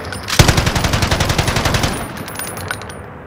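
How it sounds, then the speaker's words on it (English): Automatic gunfire in the battle royale game Call of Duty Warzone, fought around a yellow house: a rapid close burst of shots for about a second and a half, then fading echoes and scattered faint pops. "Shoot from the side, Bobby."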